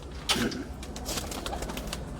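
A single soft pigeon coo rises briefly near the start, followed by faint rustling and background hiss.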